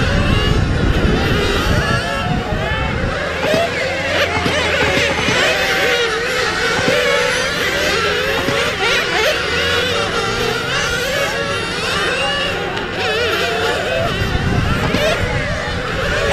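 Race cars circling a track during a main event at the IROCC Speed Weekend, a dense, continuous buzz of engines that layers and swells steadily throughout, with crowd noise and speech blended underneath.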